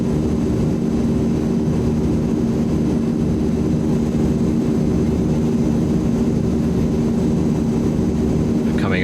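Steady aircraft engine drone from a Asurpoly C160 cruising at altitude in Microsoft Flight Simulator 2020, a continuous low hum with constant tonal lines, unchanging and fairly loud, with no talk.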